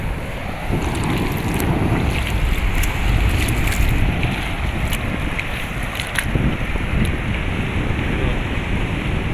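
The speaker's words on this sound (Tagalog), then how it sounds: "High tide na siya, mga katibay. Ayun, lumalaki na yung mga alon." Steady roar of sea waves and surf at high tide, waves growing larger, with strong wind buffeting the microphone, continuous and loud throughout, at night.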